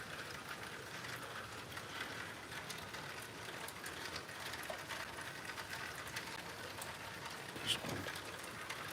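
Steady rain falls outdoors in Ontario during a worm hunt, a continuous soft hiss with scattered patter, even in level throughout and with no one speaking.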